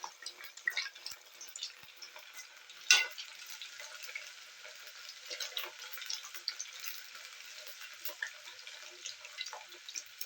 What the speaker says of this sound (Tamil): ஒரு மைகோதி வச்சு இந்த மாதிரி கலக்கி விடுங்க